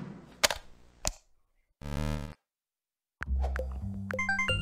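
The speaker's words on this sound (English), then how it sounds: "Oh, I'm having so much fun with those explosions." Sharp, crackling retro explosion effects from a Pico-8 shoot-'em-up game burst in several separate blasts, with short silences between and a final noisy, buzzing run of bangs.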